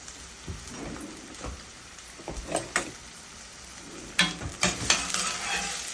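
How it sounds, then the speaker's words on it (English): Hot pepper and onion are stirred in a hot cooking pan, with soft sizzling under a run of scraping and clattering utensil strokes that bunch into louder bursts toward the end, without speech. "So I'm going to give it a stir."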